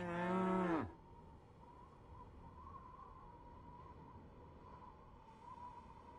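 A cow in the video game Postal 2 lets out one loud, close moo at the start, then it fades into quiet ambient hum.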